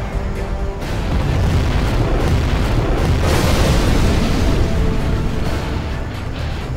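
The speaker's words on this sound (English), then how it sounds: "Warning, a nuclear missile has been launched." A nuclear missile explodes in Command & Conquer Generals Zero Hour, a loud, sustained explosive roar that swells to a peak in the middle and then slowly fades into a lingering rumble.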